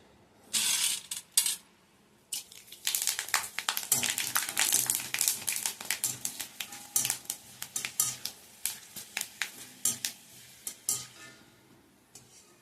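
Dried athalakkai vathal frying in a little oil, crackling and sizzling softly while a utensil scrapes and stirs the pan in quick irregular strokes, with a brief pause near the start before the scraping grows steady.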